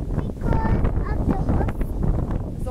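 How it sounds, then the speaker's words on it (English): Strong wind blows across a microphone outdoors on a windy day, a constant loud low rumble and buffeting that fills the whole stretch, with faint voices underneath. "Why is it so windy?"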